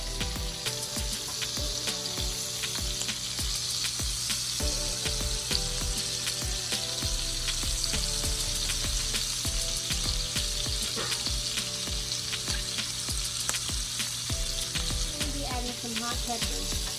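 Shrimp frying in a pan with garlic and spicy seasonings, a steady close sizzle that runs without a break, with light clinks and the scrape of stirring over it and no talk.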